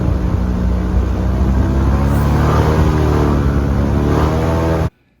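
Airboat engine roaring at high revs as the ride sets off on high water near Lake Hatchineha, a loud sustained drone that rises in pitch, then cuts off abruptly.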